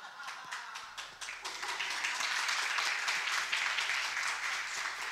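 An audience bursts into clapping in a theater setting, starting with scattered individual claps that quickly build into fuller, steady applause.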